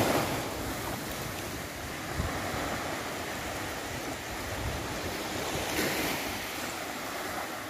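Surf rolling in on the east beach of Pulau Panjang, a tropical coconut-lined shore in West Sumatra, with steady wind buffeting the microphone and a constant broad wash of waves and no voices.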